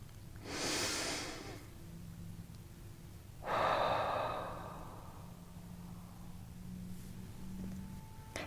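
Two deep breaths taken during a guided meditation, each a broad, airy inhale-exhale swell lasting about a second or more, near and fairly soft, over a quiet background with no talking.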